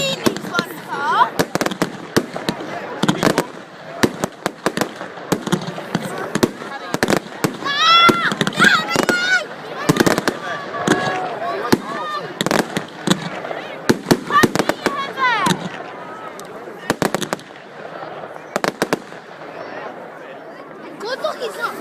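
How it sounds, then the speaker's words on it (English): Bonfire Night fireworks crackle and bang in rapid, irregular bursts outdoors, with scattered pops and fizzing sparkles throughout, while people chat nearby. "The fireworks will just go straight down, won't it?"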